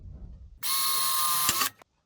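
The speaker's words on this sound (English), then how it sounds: "I'm gonna drill first here one hole," Power drill boring a single hole through sheet metal, a steady high-pitched whine lasting about a second, close and loud, cutting off abruptly into silence.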